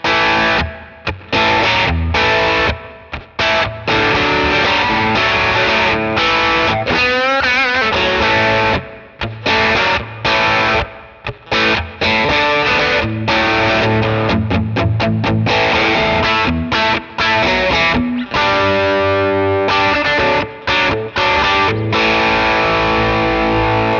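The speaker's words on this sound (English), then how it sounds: "So what now I've got is like a kind of a classic rock sound" A loud, crunchy distorted electric guitar through a Sonicake Matribox II Pro with pedals in the loop plays chords and riffs with a classic rock tone, continuous and full throughout.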